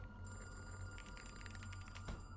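In a horror video game, a telephone rings inside a street phone booth, a faint repeating electronic bell trill set against low ambient rumble and game noise, with no talking.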